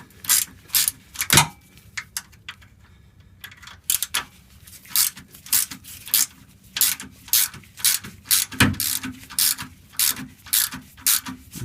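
A ratchet with a 7mm socket loosening a sway bar bushing bolt on a GMC Savana or Chevy Express van, sharp clicking bursts in a steady back-and-forth rhythm, close and distinct with no talk.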